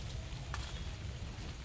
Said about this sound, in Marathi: पाऊस काही जाणार नाही, आम्ही निघालो भिजतच.